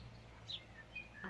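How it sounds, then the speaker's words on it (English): Sparrows chirp and other birds sing in a park in Victoria Park, Waterloo, Liverpool, with a few short, fairly faint high calls over a steady low hum of distant background noise. "I thought I'd catch the sparrows and the bird song."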